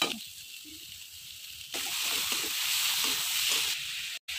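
Vegetables sizzle softly in a pan for vegetable fried rice made with leftover rice, then tomato goes in and the frying jumps to a loud, steady hiss that fills the rest of the clip.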